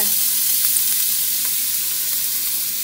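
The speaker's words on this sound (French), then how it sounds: "faites revenir ça jusqu'à temps que les arômes se dégagent" Carrot, celery and garlic sizzle steadily in a hot pan, a close, even crackle of frying vegetables with occasional stirring.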